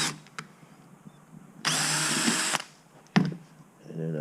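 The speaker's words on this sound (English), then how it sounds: "I went and marked it with a little blue marker, my dots, so I know where to drill at" A power drill bores holes into a steel welding table in a short, steady whine of about one second, set between quieter workshop clatter and knocks.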